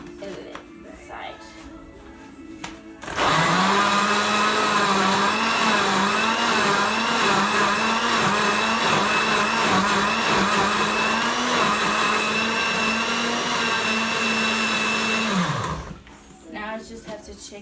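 A kitchen blender whirs loudly and steadily while blending an oats smoothie with milk, running for about twelve seconds with a slight pulsing wobble before spinning down, with brief quiet handling before and after.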